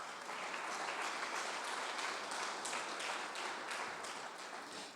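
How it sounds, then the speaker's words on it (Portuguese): A church congregation claps hands together for the Lord, a dense steady wash of many palms sustained loud and unbroken for about five seconds with no talk. "Bata as palmas para o Senhor."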